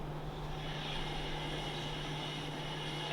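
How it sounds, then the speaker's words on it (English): The E3 rocket engine fires and throttles up during a launch, a steady, dense roaring rumble with a low hum, heard alone at moderate distance. "The E3 engine throttled up as we're going to push up to max Q."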